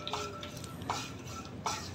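Makhana (fox nuts) dry-roasting in a kadhai for a fasting laddu, three sharp scraping stirs spaced about a second apart over a low, steady background, close and moderately loud with no talk.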